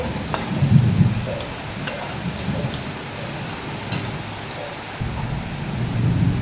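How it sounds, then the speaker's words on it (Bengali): Heavy rain falls steadily with low rumbles of thunder rolling through, a dense, even hiss that is fairly loud and continuous, with no one talking. "প্রচণ্ড বৃষ্টি হচ্ছে, দেখছেন তো কেমন আকাশ যাচ্ছে।"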